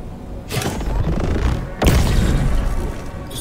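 Two heavy explosive booms about a second apart, each a loud broadband blast with a rumbling tail, from explosive pistol projectiles in Borderlands 3.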